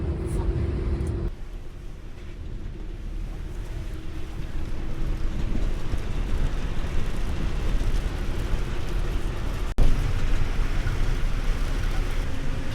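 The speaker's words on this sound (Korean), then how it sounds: "비가 많이 오네요." Heavy rain falls outside a vehicle on the road near Arusha, making a dense, steady broadband roar that rises slightly midway, with engine rumble beneath and a faint voice at the start.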